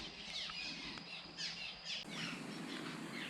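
Birds beside a creek let out a few short, sharp squawks and chirps over a steady wash of background noise, fairly faint and irregular, with nobody talking.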